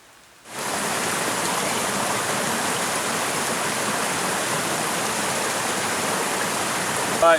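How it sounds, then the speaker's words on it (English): Steady, full roar of rushing creek water and waterfalls mixed with falling rain along Hardy Creek on a rainy backpacking trail, starting abruptly and holding constant throughout with no voices. "There's a lot of waterfalls, and it's been raining non-stop."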